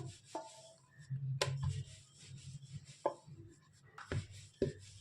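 Corn puri dough being rolled out in a home kitchen, with soft scraping and rubbing broken by a few sharp knocks and taps. It is close and fairly quiet, with no talking.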